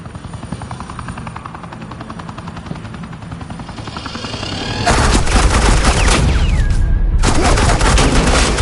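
Sustained bursts of suppressing gunfire in a Batman video game, dense and loud, layered over a helicopter-like rotor drone, swelling sharply about halfway through with a brief lull before resuming.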